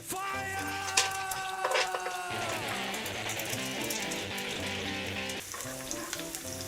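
Steady sizzling of garlic and chili frying in hot oil, with music playing throughout.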